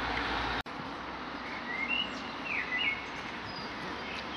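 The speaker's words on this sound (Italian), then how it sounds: "Ecco il canto degli uccelli." Birds singing outdoors on a hazy day, thin chirps and short whistles rising faintly above a steady background hiss, with one brief click early on.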